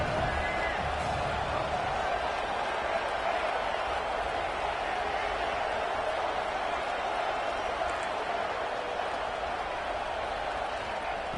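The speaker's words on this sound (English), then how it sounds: "Listen to the crowd energy here in the early going." A college football stadium crowd roars during Oregon Ducks versus Alabama Crimson Tide. The steady, distant wall of cheering and whoops runs throughout beneath a broadcaster talking.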